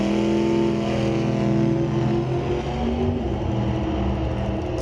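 A Valiant drag car on a solo qualifying run at an old-time drag meet, a loud sustained engine roar with rising and falling tones as it launches and pulls away.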